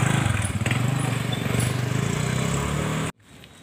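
Motorcycle engines idle and rumble at a parking spot, a steady close chugging drone that cuts off abruptly near the end, leaving quieter background noise.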